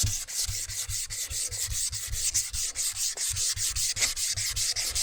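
Sandpaper rubs back and forth along the chrome rod of a hydraulic cylinder from a Mahindra Max 26 XL loader, a rapid rhythmic scratching of even strokes, close and fairly loud with no talking.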